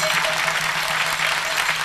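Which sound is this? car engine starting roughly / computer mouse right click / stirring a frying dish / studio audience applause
studio audience applause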